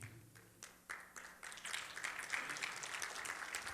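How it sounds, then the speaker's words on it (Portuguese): A church congregation at a Sunday worship service breaks into applause for the Lord. A few scattered claps come first, then they build into fuller, sustained clapping that is heard at a moderate distance. "Aplauda o Senhor"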